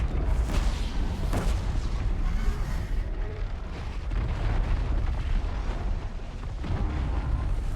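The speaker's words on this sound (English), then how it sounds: "That trampler shoots fire when it runs." A Trampler machine in Horizon Zero Dawn spews fire as it charges, a loud, sustained roaring rush broken by heavy booming bursts, with no voices over it.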